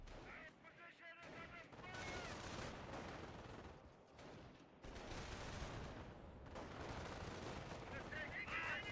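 Machine gun fire in the PhoenixMod video game rattles in sustained rapid bursts, with brief pauses between volleys, over busy battle noise.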